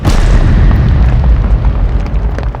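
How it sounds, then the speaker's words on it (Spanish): A huge explosion from the Demon Slayer Infinity Castle film battlefield at night in Japan, a loud deep boom that rumbles and rolls on without letup, its low roar slowly fading. "Después de una gran explosión"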